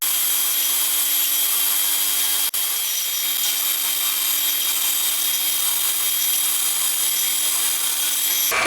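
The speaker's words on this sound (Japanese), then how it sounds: "センタードリルから順番にどんどん穴を開けていきます。" A center drill bores holes in a cast cylinder head for a 125cc four-cylinder, 16-valve engine. A loud, continuous high-pitched machining whine with a steady low hum runs unbroken and close for the whole clip, with no talk.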